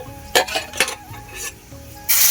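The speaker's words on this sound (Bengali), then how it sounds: "এবারে বেশ কিছুক্ষণ ধরে মশলাটাকে কষাবো।" Onion, cumin and dried red chilli paste frying in a pan, with a few bursts of stirring scrapes and a steady sizzle that swells loudly at the end; no voices.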